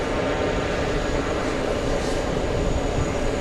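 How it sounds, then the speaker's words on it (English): Steady, loud broadband roar of a Virgin Atlantic Airbus A350-1000 on short final into JFK from Heathrow, a continuous jet rumble with no breaks. "Big A350 1000 flying in from Heathrow."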